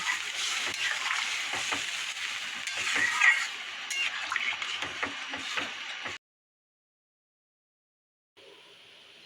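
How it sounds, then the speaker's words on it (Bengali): Hot water poured into frying spice paste for egg curry, a loud continuous sizzle and bubbling hiss with stirring clatter that cuts off abruptly, then faint quiet hiss. "এবার আমি গরম জল দিয়ে দেবো এই যে মগে গরম জল করা আছে দিয়ে দিলাম"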